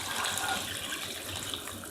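Vegetarian beef-flavored broth, three cups, pours steadily into vegan tamale dough in a mixing bowl, a continuous gushing, splashing liquid sound that stays fairly even for about two seconds with no talk.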